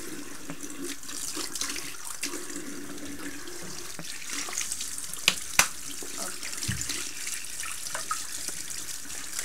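Warm water runs steadily from a tap into a sink while brushes are cleaned, a continuous close hiss of flowing water with a few small knocks and splashes over it.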